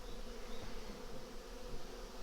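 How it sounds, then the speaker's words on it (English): A dense, continuous buzz fills the air as many honey bees swarm in and around a hive being transferred from a three-deep nuc into a double deep, a close, steady hum with no speech. "there's a lot of bees"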